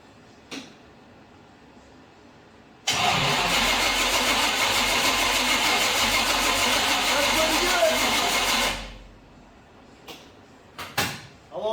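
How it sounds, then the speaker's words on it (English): A new high-torque starter cranks a rat truck engine in one continuous loud, whirring grind of about six seconds that then cuts off, with a few clunks before and after. "let's see if that new high torque starter cranks"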